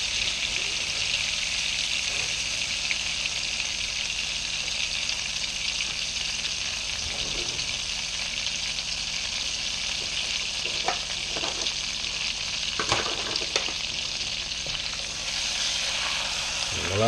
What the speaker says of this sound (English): Gonna get that butter in there,